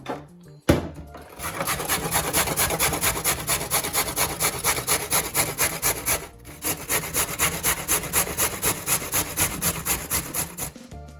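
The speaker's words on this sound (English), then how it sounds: "now I'm going to get on and start grating my carrots" Carrots are grated by hand on a grater for coleslaw, with loud, rhythmic rasping strokes in a fast steady run, a short pause, then another run of strokes.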